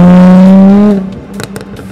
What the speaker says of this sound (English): you get this awesome little reaction from the exhaust, this bark